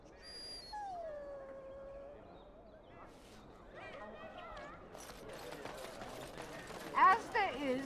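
A dog whimpers and lets out drawn-out howls in the fantasy role-playing game Dragon Age: Origins, with rising and falling tonal cries early on, followed by busier game sounds and voices toward the end.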